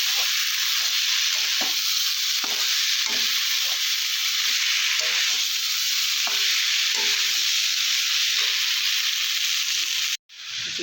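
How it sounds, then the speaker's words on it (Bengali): Jackfruit seeds and leaf stalks stir-fry with spices, a dense steady sizzling hiss with soft periodic stirring scrapes, cutting off abruptly near the end. "ভালো ভালো মতো মশলার সাথে এগুলো দিয়ে দিলাম, দিয়ে বেশ কিছুক্ষণ নাড়াচাড়া করে নেব।"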